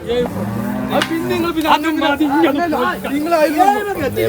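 Bulls at a cattle market low and moo repeatedly, several loud drawn-out calls overlapping close by amid a busy crowd of people chattering in the background.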